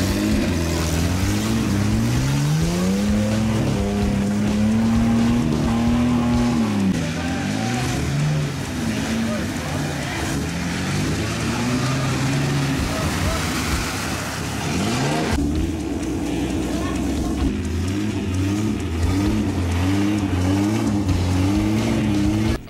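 Off-road vehicle engine labouring on a muddy trail during a mud-trail event in Criciúma, with one wheel locking and the free-wheel hub disengaged; a loud, continuous engine drone that rises and falls in pitch as it revs, close and steady throughout.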